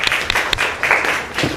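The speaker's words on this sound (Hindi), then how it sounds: "बजाइए ताली।" Schoolchildren in a government school classroom clap together, a short burst of quick, close, uneven handclaps lasting under two seconds.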